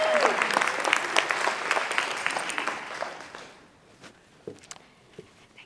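An audience at a women-and-AI keynote for a Gulf Coast power association claps loudly and densely to welcome the speaker, then the applause thins to a few scattered claps and footsteps.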